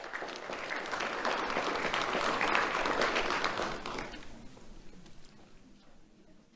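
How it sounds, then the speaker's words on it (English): A round of applause for a first-grade award recipient at a sheriff's office ceremony swells to a full, steady clapping and then tapers off toward the end. "Let's have a round of applause for Javon Williams."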